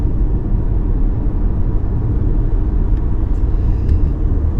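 A truck engine while driving, a loud, continuous low rumble with steady road noise close by, alone without talk.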